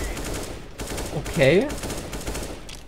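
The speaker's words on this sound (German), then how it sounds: "Ich schieße durch die Smoke auf den CT." An AK rifle in CS:GO fires through a smoke grenade cloud, with several sharp gunshots in short bursts mixed with game ambience and a brief voice.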